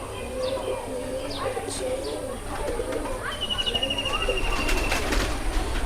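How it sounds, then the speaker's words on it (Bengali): A pair of Madrasi pigeons coo nearby in soft, repeated rolling calls, with a brief flutter and some background noise, including a thin whistle-like tone; no clear talk is heard. "এটা নর, সাদাটা হচ্ছে মাদি কবুতর।"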